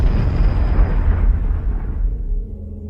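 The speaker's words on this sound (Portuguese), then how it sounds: "A cena com a explosão demonstra claramente o talento de Nolan" A deep, rumbling explosion from the film Oppenheimer rolls on heavily for nearly three seconds, dense and powerful, with its upper edge gradually dying away as the low boom lingers.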